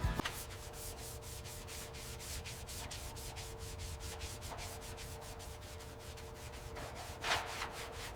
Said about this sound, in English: We use soft brushes to protect the texture.